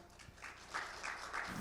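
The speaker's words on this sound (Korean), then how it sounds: "박수 보내주시죠." An audience at a conference forum applauds, a faint, distant patter of clapping that swells slightly over about a second and a half.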